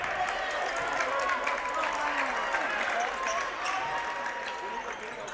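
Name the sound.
home basketball crowd cheering after a made basket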